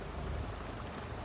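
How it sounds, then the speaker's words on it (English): Steady rain falls on a muddy logging site, a close, even hiss of drops with a faint low rumble beneath, brief and without voices. "All this freaking rain and mud."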